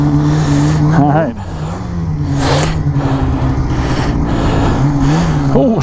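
An Arctic Cat Assault snowmobile revving in deep snow, its engine holding a loud steady drone close by, with short rising throttle blips at the start and end and rushing noise over the middle.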